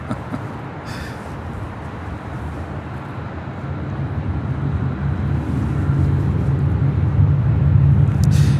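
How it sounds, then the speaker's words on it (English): A KLM Boeing 787-10 Dreamliner taxis at Los Angeles International Airport, its jet engines giving a steady low roar that swells gradually louder, with a faint click or two. "KLM Flight 602, heading back to Amsterdam in the 787-10 Dreamliner, making her way over to the 25 left."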